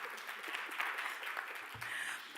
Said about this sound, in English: So if you can give us a round of applause,